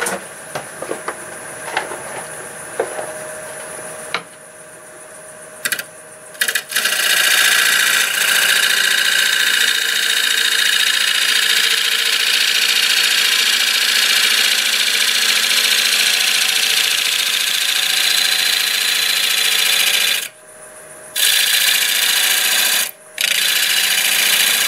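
Black locust wood spinning on a wood lathe at about 860 RPM gives a steady, loud whirring drone with bright hiss that runs almost unbroken, with a few short drops as the cut pauses.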